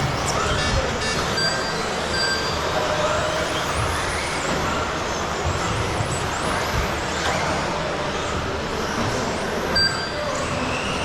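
RC racing cars, including a Schumacher Cougar LD2, whine past on an outdoor club track during a winter championship race, high motor tones rising and falling over a constant rushing background as quicker cars overtake.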